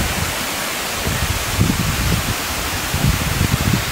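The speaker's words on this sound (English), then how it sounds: "So we're at the top of the waterfall." Waterfall in the Yorkshire Dales, heard from the top as a steady, loud broadband rush of falling water with low churning pulses, no voices.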